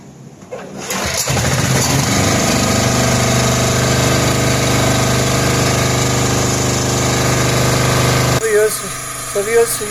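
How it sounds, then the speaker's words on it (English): A single-cylinder engine fires up and runs loud and steady with a rapid chugging drone for about eight seconds, then cuts off, leaving faint background sounds. "Now we are going to start the engine"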